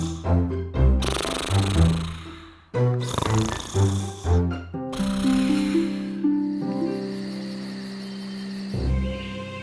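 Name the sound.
man snoring while sleeping, cartoon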